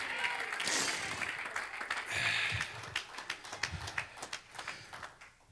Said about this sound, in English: clap your hands and give God a praise